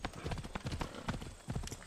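Hooves of the horse Negaso from Assassin's Creed Odyssey clop in a quick, steady rhythm of repeated thuds, near and fairly loud.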